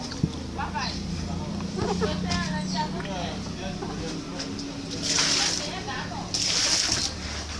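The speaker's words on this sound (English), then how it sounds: "throw the water away and clean the place" Water left from washing cassava thrown out onto the ground outdoors, two short splashing bursts near the end, with a person talking throughout.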